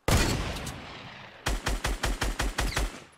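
Gunfire in Fortnite: a single loud shot with a long fading tail, then a quick evenly paced burst of about eight shots, close and clear with no talk.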